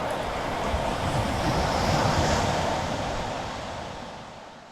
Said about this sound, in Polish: Ale plaża jest piękna.